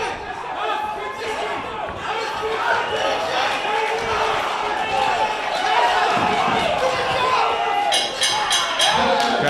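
Boxing arena crowd on their feet at the end of a bloody bout, a dense, loud roar of cheering and chatter that swells steadily throughout, with a commentator's voice running over it.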